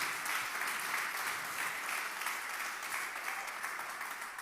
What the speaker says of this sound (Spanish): ¿Le quieren dar un aplauso al Señor?